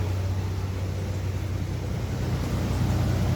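A turbocharged LS-swapped four-door car engine idles steadily with a low, even hum that stays constant throughout.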